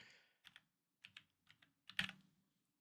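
Computer keys clack in short, sparse bursts, a few taps at a time with pauses, ending in a firmer stroke like the enter key, close and quiet in a still room.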